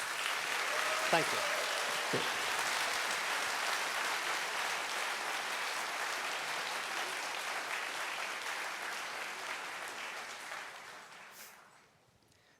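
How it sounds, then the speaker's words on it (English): Audience applause fills a conference opening day, steady broadband clapping for about eleven seconds before fading out, with a brief spoken thanks near the start. "So please applaud."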